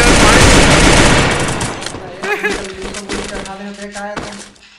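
Rapid automatic gunfire in the Free Fire video game, a loud dense burst at first that thins into scattered shots, with a voice talking over it.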